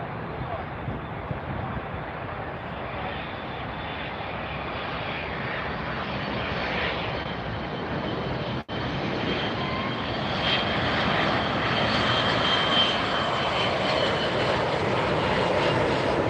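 An Avianca cargo airplane at Miami Airport makes a steady, loud engine roar that holds and builds slightly throughout.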